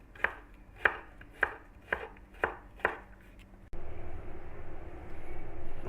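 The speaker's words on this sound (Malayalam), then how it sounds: "എന്നിട്ട് ഇതുപോലെ അരിഞ്ഞാൽ മതി, ഒത്തിരി തീരെ ചെറുതായിട്ട് അരിയണ്ട." A knife chops peeled tapioca on a cutting board for a Kerala-style thoran. Six crisp, evenly spaced thuds sound up close, then the chopping stops and a duller, steady background noise follows.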